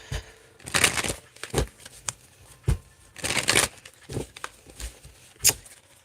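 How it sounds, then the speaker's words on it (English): A deck of tarot cards is shuffled by hand in short, crisp bursts of riffling and sliding, heard close and fairly quiet. Brief pauses separate the bursts, and no one speaks. "Where's my deck? Here it is. Let me get a few of these cards."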